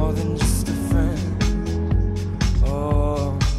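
A remix of a song plays loudly: a steady electronic beat with punchy regular kicks and sharp percussive ticks under sustained melodic synth tones, without talking over it.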